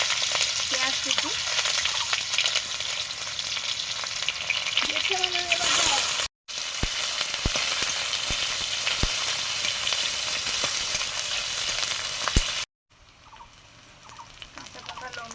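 Chopped onion fries in hot mustard oil in a pan, a steady, loud, close sizzle with scraping stirring strokes that runs continuously, broken only by two brief silent cuts.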